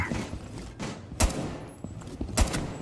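Gunfire in Rainbow Six Siege, with two sharp loud shots standing out amid quieter thumps and game noise, fairly faint overall.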